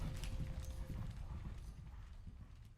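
A horse's hooves clip-clop in a steady, muffled patter beneath a low rumbling bed of sound, fading slightly as it goes.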